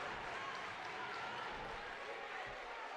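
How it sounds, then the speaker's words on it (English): Crowd noise rising inside a college arena during a women's basketball game between Swarthmore and Dickinson, a steady, dense roar of voices and cheering that holds level throughout, with faint thuds and claps mixed in. "Crowd's getting loud here in Tarble Pavilion."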